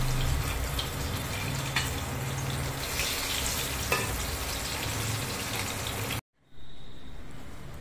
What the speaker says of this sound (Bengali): এবার আবার আমি এগুলোকে সুন্দর করে ভেজে তুলে নেব